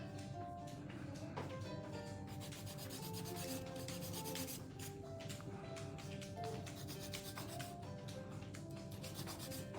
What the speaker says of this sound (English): I'm gonna take my 180 grit file and I'm gonna clean underneath